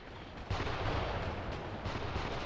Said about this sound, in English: heavy fire now coming from the Panzer II, cutting this squad down.